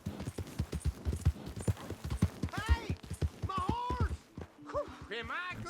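Horse hooves clip-clop in a steady rhythm in Red Dead Redemption 2, moderately close and mixed under someone talking, with other voices joining later.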